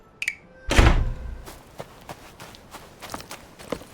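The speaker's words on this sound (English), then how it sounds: "And then we just go ahead and smack the foundation down." A stone-and-mortar foundation thuds into place while building in an ancient China survival game, one heavy low impact followed by light scattered knocks and taps.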